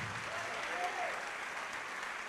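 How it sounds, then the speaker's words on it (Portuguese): A church congregation claps in a broad, even wash of applause, fairly distant and soft, while a voice speaks faintly over it. "Vamos aplaudir a palavra e a fidelidade de Deus, que sempre cumpre o que promete."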